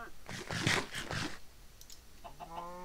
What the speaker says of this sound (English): There's like a chicken parade over here.